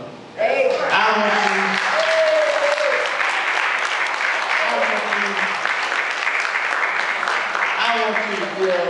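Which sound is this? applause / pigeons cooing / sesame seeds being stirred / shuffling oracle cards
applause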